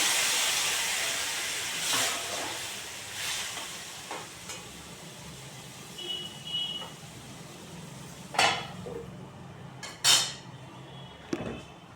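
Water poured into a hot cooking pan gives a hissing sizzle that settles into a soft steaming bubble, with a few sharp clatters of utensils near the end and no talking.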